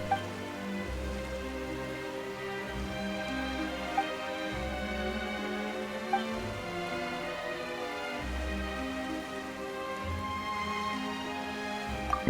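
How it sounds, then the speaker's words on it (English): Steady rain falls in the video game Genshin Impact, a continuous even hiss heard alone beneath a layered, sustained musical score. "Why is it raining all of a sudden?"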